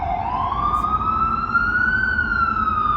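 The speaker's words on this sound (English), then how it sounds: "We got ambulance." An ambulance siren wails continuously in a steady rising-and-falling tone over a constant rumble of road traffic, loud and close throughout.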